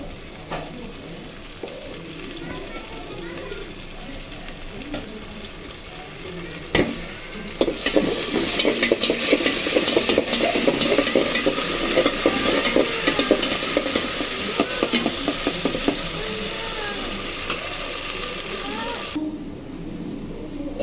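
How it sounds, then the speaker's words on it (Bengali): Onions frying with ginger and garlic in a pan: a steady sizzle that grows louder and busier midway, with scraping stirs and occasional clicks of the spatula against the pan. "এখানে পেঁয়াজটা ভাজা হচ্ছে"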